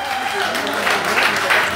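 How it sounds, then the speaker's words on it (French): A church congregation at Sunday mass in a Notre-Dame parish in Douala breaks into applause, dense clapping sustained through the short moment with a voice faintly over it. "Ça s'applaudit, s'il vous plaît."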